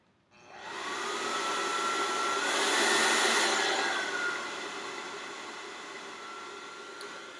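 A hair dryer set to low speed and low heat switches on and runs as a steady, airy whoosh that swells slightly then settles, close and continuous with no talking.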